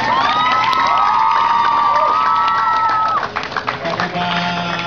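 A crowd at a Betawi arts performance in 2015 cheers and shouts loudly for a performer, whoops and voices swelling together, with scattered clapping mixed in as the noise briefly dips near the end.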